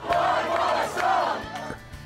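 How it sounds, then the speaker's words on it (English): A large crowd cheers and shouts at a live concert in front of thousands of fans. The sound is a dense, sustained roar that rises and falls in waves. "hearing the crowds cheer"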